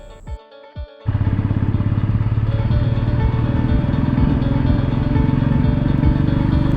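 A motorcycle cruises along the Leh–Khardung La highway in Ladakh. A steady, loud engine drone with wind rush sets in after a second of quieter handling noise and holds constant throughout.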